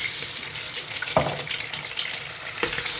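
An egg lands in a hot pan and fries with a steady sizzle, with a couple of soft knocks and stirring sounds over the crackle.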